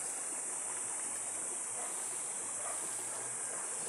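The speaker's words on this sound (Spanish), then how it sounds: "aquí llegamos al río" A river flows in a steady, even rush of water that stays constant throughout, with no voices.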